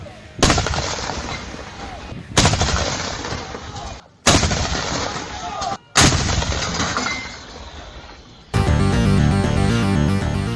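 An AMX MK61 self-propelled artillery gun fires four heavy, booming rounds in a loud, spaced sequence, each blast followed by a rolling decay, before a denser mechanical burst closes the passage.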